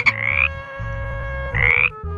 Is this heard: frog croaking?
yes